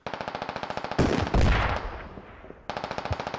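Rapid automatic gunfire in the military shooter game Squad, loud and close, with a burst of heavier blasts and a decaying rumble between two stretches of quick rhythmic shots.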